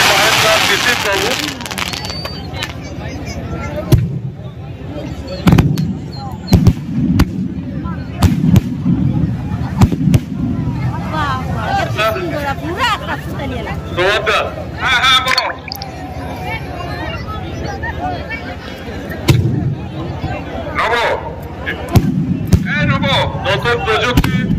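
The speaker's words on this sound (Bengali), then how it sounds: "অত্যাধুনিক প্রযুক্তির মধ্য দিয়ে আপনারা এই বাজির প্রদর্শন দেখতে পাচ্ছেন" A remote-controlled, electrically fired fireworks display at Digha, West Bengal, throws off irregular sharp bangs and crackling bursts over the hubbub of a crowd, with someone talking loudly between the blasts.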